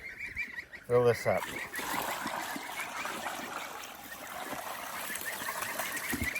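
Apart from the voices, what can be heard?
geese honking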